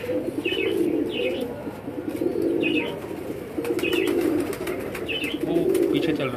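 Banded pigeons cooing in repeated low, soft phrases with a few higher chirps, fairly close, over a steady murmur of outdoor background noise.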